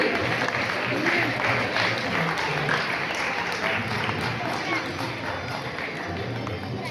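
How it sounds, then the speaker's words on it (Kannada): An audience at an award ceremony for a Havyaka community competition claps in a sustained burst of applause, a dense patter of many hands that holds steady and tapers slightly toward the end. "ಚಪ್ಪಾಳೆಯಲ್ಲಿ ಪ್ರೋತ್ಸಾಹಿಸಬೇಕಾಗಿ ವಿನಂತಿ"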